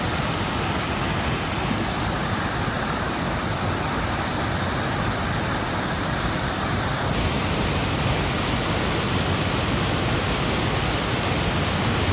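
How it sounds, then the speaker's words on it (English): Big Niagara Falls on the Appalachian Trail roars as a steady, dense broadband wash of falling water, unbroken and constant throughout with no voices. "we're coming to what's called Big Niagara Falls"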